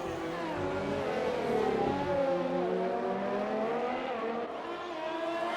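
A D1 drift car launches at the Singapore GP, its engine revving hard and climbing steadily in pitch as it accelerates, loud and close for several seconds.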